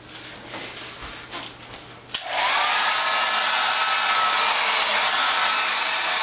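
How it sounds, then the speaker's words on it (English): A few soft knocks and rustles, then an old hair dryer switches on and blows loudly and steadily for several seconds, drying a motorcycle seat cover. "I have to plug in a hairdryer and try and dry it off a bit"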